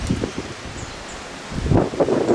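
Gusty wind during a dust storm on a sunny day, a rough broadband rush of noise that swells and buffets the microphone in bursts, strongest near the end, with no talking.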